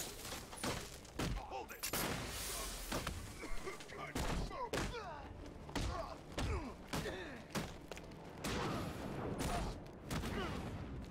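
Repeated bursts of video game gunfire, sharp shots and thuds spread across the whole stretch, with voices intermittently underneath.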